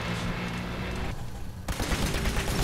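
Bursts of gunfire from modded Fallout 4 arrive in a quick fusillade, cut off briefly, then resume with sharp repeated shots.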